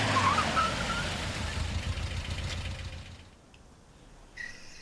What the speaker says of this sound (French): Une voiture passe à ce moment-là